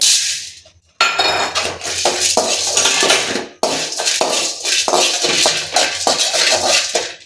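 Spices and pepper dry roast in a pan without oil for sambar powder, with repeated scraping and clattering as a utensil stirs them against the metal. The stirring is close and fairly loud, with a couple of brief pauses.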